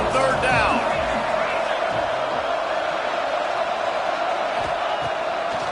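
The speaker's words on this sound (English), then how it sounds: "The Red Raider crowd rising to the occasion to help its defense on 3rd down." Stadium crowd roaring on third down in the College Football 25 video game, a dense, loud, sustained wash of cheering with a commentator's voice over it.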